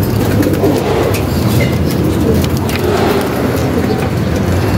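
Racing pigeons paired for breeding fill a loft with steady, continuous cooing and low bird calls, close and fairly loud, with a faint hum of traffic in the background.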